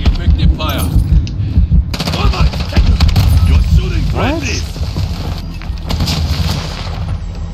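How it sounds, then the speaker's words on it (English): Rapid automatic gunfire and explosions in an online shooter video game's Face Off match, dense bursts and booms running throughout, with a player's voice shouting over the shots. "Taking effective fire!"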